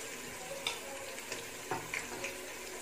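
Onion and green chilli frying in a pot for a cumin-rice chicken biryani, with a low continuous sizzle and a few light clinks and stirring scrapes spread across it.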